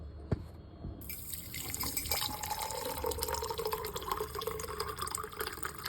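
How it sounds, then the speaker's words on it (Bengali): Water is poured or run from a tap to soak black chia seeds, giving a steady, soft splashing and trickling sound close by after a brief quiet start. "আর সাথে এখন চিয়া সিডটা ভিজিয়ে দেবো।"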